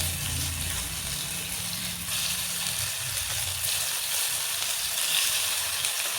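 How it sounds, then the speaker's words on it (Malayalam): Bitter gourd shallow-fries in a pan with a continuous close sizzle and crackle, a broad hiss that holds steady throughout with a low rumble early on. "അപ്പോൾ നമുക്ക് കൈപ്പൊക്കെ ഒന്ന് പൊരിക്കാൻ വേണ്ടി വെക്കാം കേട്ടോ"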